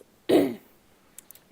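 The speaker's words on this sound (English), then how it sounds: "I am sorry about the cough." A single short cough or throat-clear sounds close by and moderately loud, then gives way to quiet with a few faint clicks.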